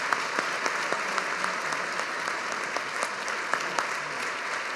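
An audience applauds at an alumni award ceremony honouring Peter Cory, a dense, even ovation with a few sharp individual claps standing out near by.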